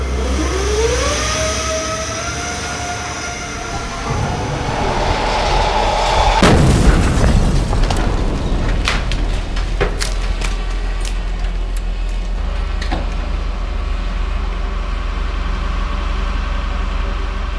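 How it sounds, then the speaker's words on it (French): A staged special-effects car explosion detonates with a sudden loud boom after an engine revs and whines, followed by crackling debris, scattered sharp pops and a lingering rumbling roar. "Alors dis-moi Georges, ça vient de péter, il reste plus rien de la voiture"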